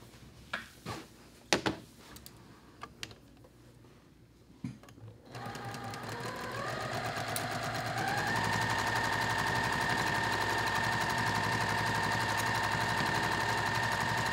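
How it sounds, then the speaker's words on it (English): A sewing machine stitches the last seam of a quilt block. It opens with a few handling clicks and thumps, then the motor starts, runs up to a steady whirring hum and holds close and even. "then you're gonna sew your last seam"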